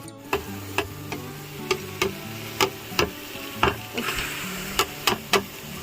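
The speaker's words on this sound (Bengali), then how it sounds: "এখানে বেগুন ভাজা হচ্ছে আলাদা সবজিতে দেওয়ার জন্য" Eggplant frying in a pan, a low hiss of oil punctuated by regular sharp ticks and clicks of a utensil, close and without talk.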